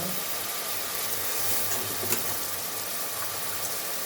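Soaked rice poured into a pot for kuska, a continuous close hiss and watery sizzle with a rough, steady texture and no voices.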